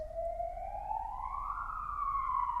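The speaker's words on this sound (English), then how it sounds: "yes, an ambulance or something going past" A siren wails steadily, its pitch sliding upward and then holding, fairly loud as an emergency vehicle passes nearby.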